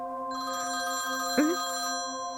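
A telephone rings late at night with a steady electronic tone, one short sweeping blip cutting in midway, clear and close with no voices.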